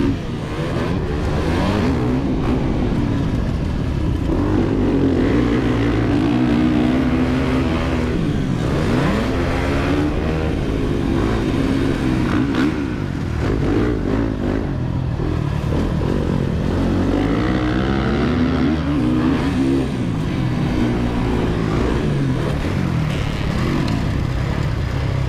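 Motorcycles rev and ride steadily at a motocross track as a rider pulls wheelies, engines droning loud and continuous with rising and falling pitch sweeps throughout.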